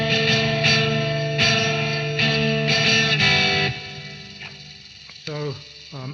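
Heavily distorted electric guitar with meantone tuning, chords strummed in a few sustained blocks, loud and buzzy, fading out, followed by a short warbling pitch-bent note.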